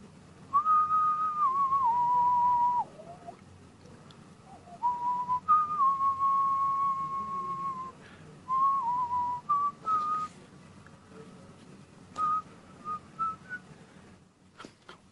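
A person whistles a melody in clear, sustained notes, pausing between phrases and ending with short chirpy bursts, close and fairly loud.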